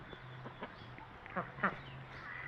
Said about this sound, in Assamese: এইবিলাক চাওক আমাৰ হাঁহ